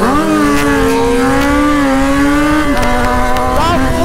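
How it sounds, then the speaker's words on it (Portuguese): A Yamaha XJ6 motorcycle with a straight-pipe exhaust revs on a street, loud and close. The raspy engine note rises and holds high, drops back, then climbs again with a few quick blips and no clear talking. "Vamos acelerar a XJ-tona."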